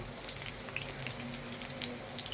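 Kofta frying in hot oil, a steady soft crackle of bubbling oil with scattered tiny pops, continuous and close throughout.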